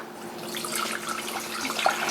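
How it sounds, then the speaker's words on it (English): Pork loin cooking juice being poured off from a pan, a short, soft, continuous liquid trickle and splash heard up close. "I'm just going to pour off the juice"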